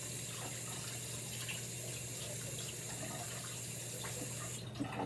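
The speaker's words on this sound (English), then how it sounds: "handling raw meat, wash your hands" Hands are washed under a running kitchen tap while raw meat is being handled, the water hissing steadily and softly with faint splashes, ending in a brief clatter.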